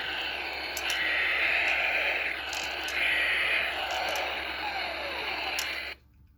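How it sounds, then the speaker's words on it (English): An electronic battling Jango Fett 12-inch toy figure gives a harsh, noisy screech that swells and fades in waves over steady hiss, with faint falling tones, then cuts off abruptly. "there's like a screeching sound, and then there's like a descending pitched sound"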